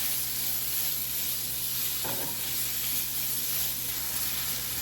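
Onions frying in a pan for a chicken devil dish, a dense, continuous hiss of sizzling oil heard close and loud, with one brief scrape partway through.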